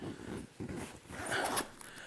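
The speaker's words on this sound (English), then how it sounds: "Let me get the zipper over here." A zipper drawn along the front pocket of a LowePro Flipside Trek 450 AW camera backpack, heard as a few quick rasping pulls up close with brief pauses between strokes.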